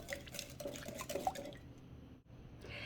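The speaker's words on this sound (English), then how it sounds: "Now I'll give this a stir." Egg, sugar, vanilla and milk stirred together for chocolate chip muffin batter, a soft wet sloshing and swirling of liquid in a bowl lasting a couple of seconds, close and fairly quiet, then fading off.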